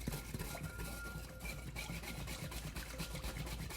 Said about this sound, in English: We'll whisk it up.